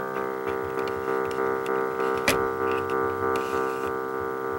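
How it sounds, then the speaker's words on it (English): ARP Axxe synthesizer tone pulsing under its low frequency oscillator, a steady sustained drone with regular rhythmic throbs and one sharp click partway through, heard alone. "you can hear those pulses nicely"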